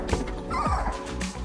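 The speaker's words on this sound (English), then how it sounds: "So many lovely puppies in there." Several puppies of a large, chunky litter give short yips and barks mixed with soft whimpers, close by and fairly steady throughout.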